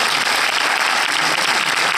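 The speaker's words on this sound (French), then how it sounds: "Je pense qu'on peut l'applaudir." Audience at a film premiere applauds in a dense, continuous wash of clapping, steady and loud throughout with no pauses or talk.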